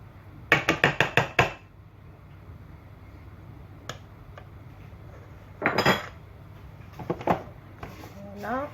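Macaron batter worked in a bowl, a quick run of sharp clinks from a utensil against the bowl, then quieter scraping and a few more clatters with pauses between them.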